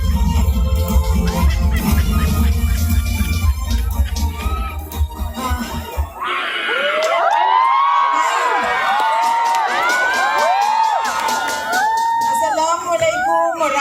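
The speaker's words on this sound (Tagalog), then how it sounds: "palakpakan po natin Vice President Sara Duterte" A large crowd at an event claps and cheers loudly for Vice President Sara Duterte, with whoops and shouts, after an announcer's voice.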